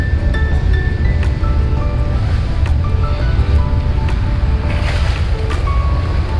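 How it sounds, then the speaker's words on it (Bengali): Tidal water and waves surge along the Ganges river bank as the tide comes in, a steady, loud broadband wash of water and wind noise that continues throughout with no speech. "এই জোয়ার এলো বাবা, গঙ্গায় দিয়ে জলে কি আওয়াজ রে"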